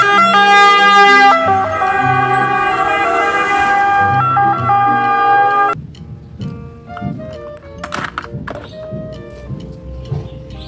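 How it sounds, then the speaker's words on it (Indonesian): A wailing ambulance siren rings out loud and close, its steady tones shifting partway through, with no voices. "Ada mobil ambulan."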